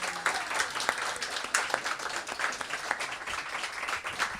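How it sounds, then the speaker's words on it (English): An audience at a poetry reading breaks into continuous applause, with crisp overlapping hand claps filling the room at moderate volume, a few louder individual claps standing out. "Let's everybody applaud on 3."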